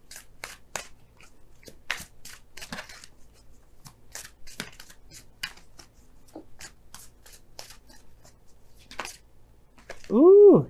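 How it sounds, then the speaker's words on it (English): A deck of Romance Angels oracle cards is shuffled up close, giving a string of sharp riffling snaps and soft slaps at uneven intervals, ending with a short voiced sound. "let's go ahead and pull your Romance Angels cards for this week."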